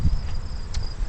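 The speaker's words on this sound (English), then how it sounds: "the bees are a little bit agitated" Agitated honey bees in a beeyard, robbing one another under a reduced honey flow in September, giving a loud close hum with a thin high whine running throughout.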